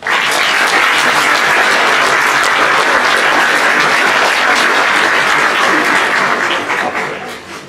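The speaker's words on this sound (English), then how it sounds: "like to start off with a great round of applause for you" A high school audience at an awards ceremony gives award recipients a long, loud round of applause, dense and sustained before tapering off near the end.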